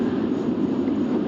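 Continuous mid-low whirring hum of a Northern Line train's ventilation fans in the Open BVE train simulator, steady and unbroken for just over a second with no voices.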